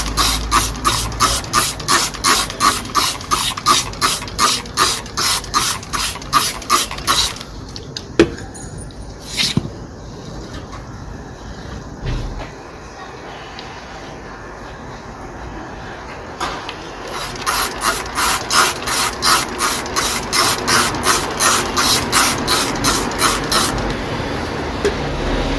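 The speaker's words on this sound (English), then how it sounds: "I'm gonna use my mister" A handheld plant mister sprays water onto dry balcony potting soil in quick, regular pumped bursts, a rapid train of hissing puffs that pauses midway and then resumes steadily, close and fairly loud.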